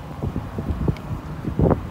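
Strong wind outdoors beside dumpsters, heard as low, uneven rumbling gusts buffeting the microphone throughout a short stretch with no speech.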